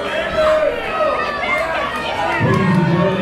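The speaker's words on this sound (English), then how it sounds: "Rounding roar of boos for Nathan Auldridge and Diamond" A wrestling crowd at a Black Diamond wrestling show boos a heel wrestler with a sustained, loud roar of disapproval that swells near the end, mixed with scattered shouts and chatter.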